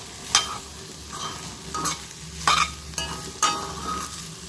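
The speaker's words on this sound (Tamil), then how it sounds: "உருளைக்கிழங்கு ரொம்ப சூப்பராக வெந்துக்கிட்டு இருக்குது" Potatoes and green beans fry in a pan with a steady background sizzle, broken by several sharp scraping stirs spaced about a second apart; no voices.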